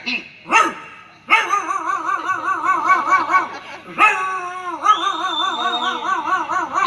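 A voice imitates a dog on stage at a koodata performance in Perdoor, giving yips followed by long, wavering howl-like cries, loud and close.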